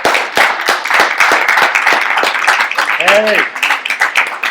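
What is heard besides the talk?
audience applauding volunteers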